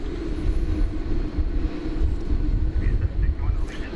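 An American Airlines airliner rolls down runway 18 Left at DFW Airport for takeoff, giving a steady, loud, broadband engine roar with low rumble that holds throughout, slightly distant and unbroken.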